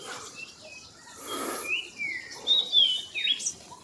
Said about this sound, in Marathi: सुंदर असे आवाज देत आहेत पक्षी.